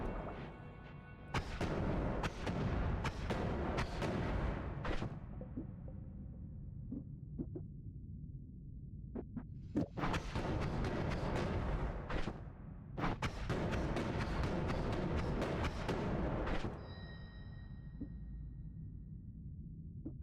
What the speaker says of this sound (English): it just makes an explosion when it hits